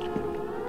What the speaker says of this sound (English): There's a literal siren.